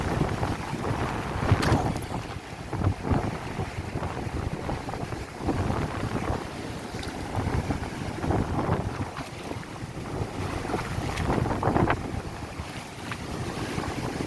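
Stormy seaside wind and waves during Typhoon Inday along a boulevard in Dao, Antique: a constant rough roar of gusting wind and surf, buffeting the microphone, with louder surges of breaking water, and no talk.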